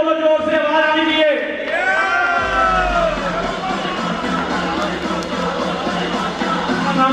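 A crowd at a lottery draw event shouts loud cheers together, a sustained roaring chorus of voices that swells and then holds steady, with people talking through it.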